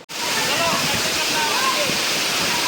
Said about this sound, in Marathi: आता आम्ही चाललो कलोते वॉटरफॉलला इथं बघा